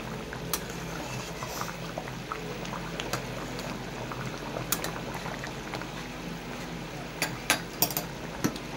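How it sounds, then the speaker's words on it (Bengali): Mutton curry bubbles in a pot, a steady close gurgling boil with a few sharp clinks of utensils toward the end. "টকবক টকবক টকবক করে ফুটে উঠেছে"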